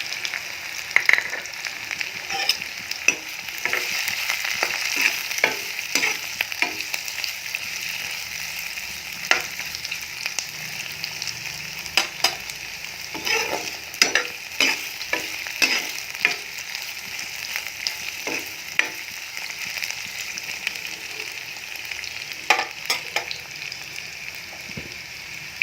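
Chopped carrots stir-fry for fried rice in a hot pan, giving a steady sizzle broken by sharp spatula clinks and scrapes, close by and with no talking.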